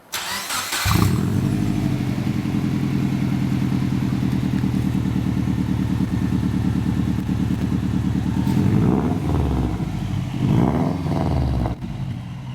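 A 2006 Subaru Forester XT with its stock TD04 turbo cranks briefly and fires, then settles into a loud, steady idle that stays close and continuous, with a few revs near the end.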